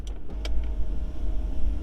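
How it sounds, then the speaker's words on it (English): Power windows on a 2022 BMW 330i rental car rolling up, a steady low motor hum with a brief higher whir early on, heard close inside the cabin. "Let me just roll up the windows here."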